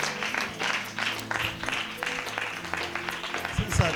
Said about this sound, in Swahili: Mpigie tena Yesu makofi.